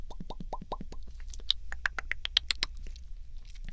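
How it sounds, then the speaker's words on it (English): Close, crisp mouth clicks and wet pops come in a rapid, irregular patter, some sharper and brighter, with no speech between them. "The ones that are kind of clicky and poppy and overall kind of just nice to hear."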